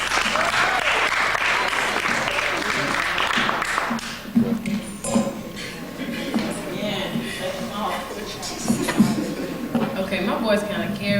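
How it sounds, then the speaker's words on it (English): An audience applauds young poets and writers at a festival, steady clapping for about four seconds that thins into scattered claps and crowd murmur with voices talking. "So give them a round of applause."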